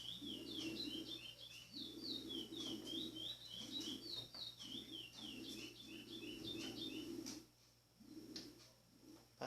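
Chestnut-bellied seed finch (curió), just out of molt, singing repeated bright whistled phrases close by, pausing briefly before resuming, over a steady low background hum.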